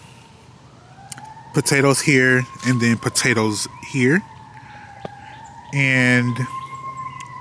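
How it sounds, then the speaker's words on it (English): A fire truck siren wails steadily in the distance, rising and holding its pitch, while a person speaks over it in the foreground beside a school garden. "Sorry for the background noise. There's a fire truck."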